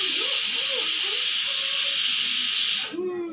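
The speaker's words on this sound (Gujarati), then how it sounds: "આ કુકરમાં તો કંઈ નહીં સીટીઓ વાગે" Steam hisses steadily from a pressure cooker on a home stove, a loud continuous rush that cuts off near the end, leaving quieter background noise.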